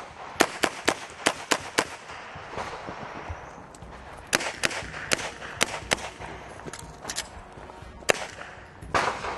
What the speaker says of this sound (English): I'm going to fire 2 to the body, and I'm going to be at slide lock on the inside target there.